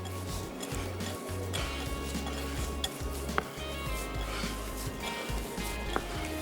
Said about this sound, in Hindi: अब अच्छे तरीके से आपने इसको जो है मिक्स करना है।